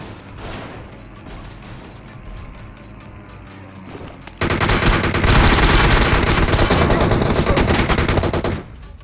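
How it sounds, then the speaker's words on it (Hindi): Heavy automatic gunfire in a PUBG battle royale match, bursts building from a moderate exchange into a loud, dense sustained volley of rapid shots before cutting off abruptly near the end. "अब देखो उन बंदों ने कितना गंदा फायर किया हमारे ऊपर और हमने उनको कैसे मारा"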